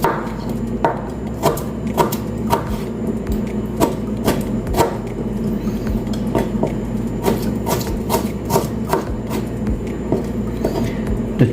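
Garlic and ginger being chopped on a chopping board while preparing chicken curry: a close, steady run of sharp knife strikes against the board, repeating at a brisk uneven pace with no talking.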